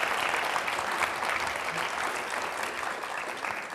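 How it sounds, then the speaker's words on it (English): Sustained applause from an audience at a literary author event, a dense, steady wash of clapping that holds at an even level for the whole stretch with no voices standing out. "let's give Stephanie another big round of applause"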